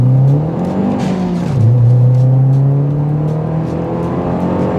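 Turbocharged Mazdaspeed 3 launching hard on a dry road in cold weather, engine roaring loud and close as it climbs through a rising pull with a brief dip at the shift, older tires spinning under the power, no talk.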